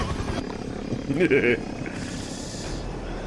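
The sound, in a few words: helicopter in video game Battlefield 2042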